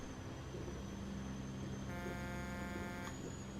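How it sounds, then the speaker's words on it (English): A truck horn in American Truck Simulator sounds for about a second with a steady harmonic tone over continuous engine and road rumble, then cuts off. "What's my horn sound like?"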